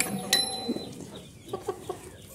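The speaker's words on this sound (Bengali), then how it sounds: "দেখেন কত ধরনের মুরগি আছে এখানে" Several chickens cluck in short scattered bursts on a poultry farm, fairly faint and with no talk over them.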